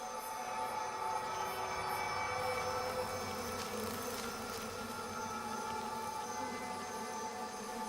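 A carpet of giant honey bees on an open comb hums in a dense, steady drone, alarmed by an approaching moth, with tonal buzzing layers sustained throughout and no voices.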